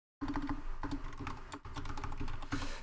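Rapid, continuous typing on a computer keyboard during a game development coding session, loud and close with dense clattering keystrokes and no talking.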